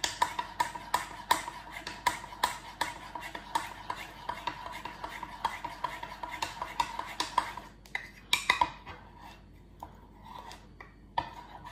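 Chocolate overnight oats stirred in a bowl, a spoon clinking and scraping against the sides in a steady rhythm of close, sharp taps, slowing and thinning toward the end.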